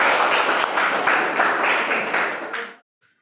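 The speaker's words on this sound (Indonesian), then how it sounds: "Kita beri aplaus dulu untuk" Applause from a classroom of students, a dense burst of many hands clapping at close range that holds steady for under three seconds and then stops abruptly into silence.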